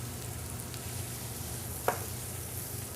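Onion and chorizo frying in a pan, a soft continuous sizzle with a single brief scrape or clatter near the middle.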